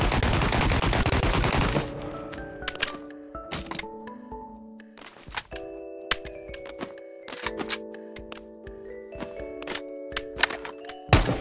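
An AK rifle with a built-in grip fires in Bonelab. After a burst of loud noise come sharp single shots and short bursts with metallic clacks and ringing tonal echoes, loud and close with no talking.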